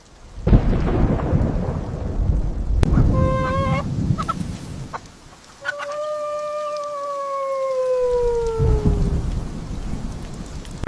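A thunderstorm over a village with heavy rain pouring steadily, loud rumbling thunder and a sharp crack, along with a long whistling, howling gust.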